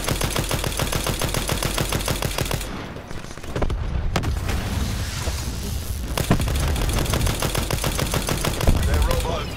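Rapid automatic gunfire in a Call of Duty Black Ops 4 match as players shoot at an enemy robot, loud sustained bursts with brief pauses and booming impacts, with voices faintly under the shooting.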